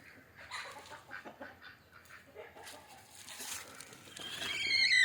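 Native country hens in a brooding coop give soft, irregular clucks and bird calls at close range, growing louder toward the end with a sharp high call, no talk.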